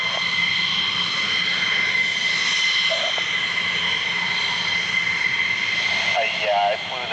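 F-35A jet aircraft taking off at RAF Lakenheath, a steady loud roar of engine noise holding through the whole stretch, with radio chatter and voices heard faintly underneath.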